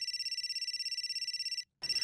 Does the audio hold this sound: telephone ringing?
yes